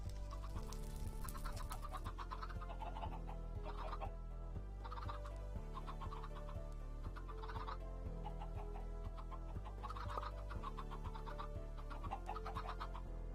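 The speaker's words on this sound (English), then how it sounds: "That demands more chickens." Minecraft chickens cluck and burble in repeated short bursts over a low, steady droning background, several gobbling calls spaced a second or two apart, faint and without talk.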